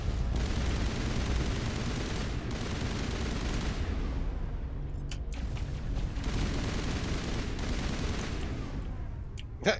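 Rapid bursts of gunfire in the video game Mass Effect Legendary Edition, dense volleys of shots in two long stretches with a quieter gap and sharp cracks between, loud and close.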